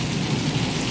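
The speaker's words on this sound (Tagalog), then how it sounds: "ang ulan, sobrang lakas ng ulan" Heavy rain pours down steadily outdoors, a dense continuous hiss with low rumble, loud and close throughout with no voices.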